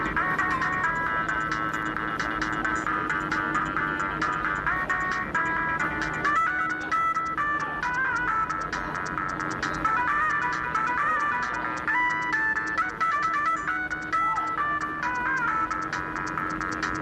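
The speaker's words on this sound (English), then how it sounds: "My favorite ringtone." A bright electronic ringtone melody loops continuously, loud and close, with no talking.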